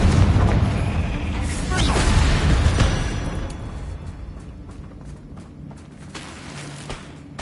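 Confringo, the explosive fire spell in Hogwarts Legacy, bursts with a loud booming blast that rumbles and fades over several seconds, followed by smaller pops and clattering debris, with some speech-like sound mixed in.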